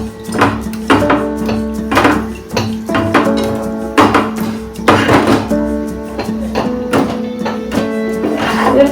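Prawns being mixed with mustard oil in a pot, with ground bottle gourd leaves: repeated hollow thunks and clanks of a utensil against the pot in an irregular rhythm, close and fairly loud.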